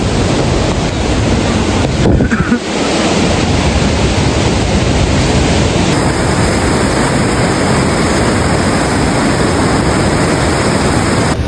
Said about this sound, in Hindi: और ये देखो गर्म पानी का झरना है सारा यहाँ